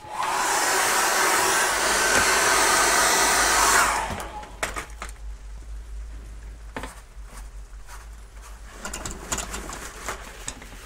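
A hair dryer blows steadily and loudly on a wet acrylic painting for about four seconds, then switches off, leaving quiet room sound with faint bird cooing in the background.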